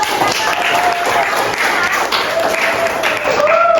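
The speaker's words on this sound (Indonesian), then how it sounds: "Tepuk tangan dulu." Students in a mathematics classroom clap together in a steady, dense burst that fills the whole moment, with a faint tonal whine running underneath.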